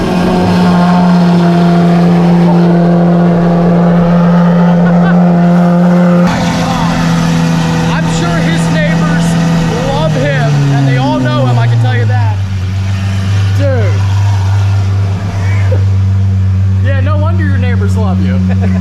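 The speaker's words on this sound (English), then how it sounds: "Cold start here." A Lamborghini Aventador SVJ fitted with a Gintani F1 exhaust fires up from cold, a loud close roar that holds a high idle and then settles lower, with people talking over it.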